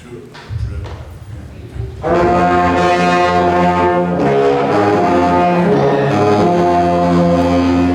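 Trombones, baritones and tubas swell into a loud, sustained chord after a few scattered opening notes, rich and full, with no speech over it.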